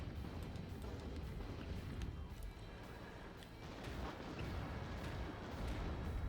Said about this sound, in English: He does drop the napalm, though. The napalm doing a significant amount of damage,